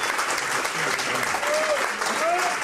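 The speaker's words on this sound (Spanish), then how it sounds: "Coqui, un aplauso, por favor." Steady audience applause at a Spanish-language speech event, sustained clapping from a crowd filling the whole moment, with a faint voice mixed in underneath.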